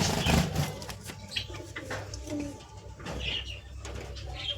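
Pigeons in a rooftop loft give soft, low cooing calls against a steady background hum, with a few faint rustles and a brief flutter near the start.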